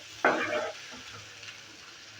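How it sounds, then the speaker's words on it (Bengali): Potatoes and soybean chunks being sautéed in a pan, with a short burst of stirring and scraping followed by a low, steady sizzle. "আলু আর সয়াবিনটাকে ভালো করে আবারও কষিয়ে নিচ্ছি"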